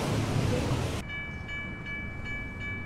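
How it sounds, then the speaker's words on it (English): A train passes in a trash-town video game, with a broad rumble of rolling noise for the first second that then drops to a quieter hum with steady faint tones. "This train is going to be crashed into."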